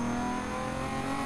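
Toyota Supra engine revving hard in Need for Speed Carbon, a loud, steady high-pitched drone held for about a second with no speech.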